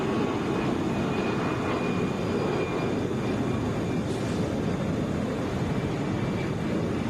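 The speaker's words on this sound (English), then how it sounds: "This is Delta 1432 going to Dallas, Airbus A319." Broad steady roar of a Delta Airbus A319 airliner bound for Dallas at Atlanta, heard from a distance as an even rumbling wash of engine noise with no voices over it.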